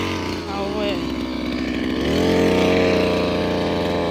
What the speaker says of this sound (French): Débroussailleuse. C'était grave dur pour démarrer ce truc purée, mais on a réussi.